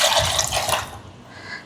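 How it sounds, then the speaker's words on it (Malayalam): Water poured from a vessel into a thick ground paste for a cucumber curry, a short splashing gush that fades out quickly. "ഇനി ഇതിലേക്ക് ആവശ്യത്തിന് വെള്ളം ഒഴിച്ചിട്ട് കുറച്ചുകൂടെ ലൂസാക്കണം"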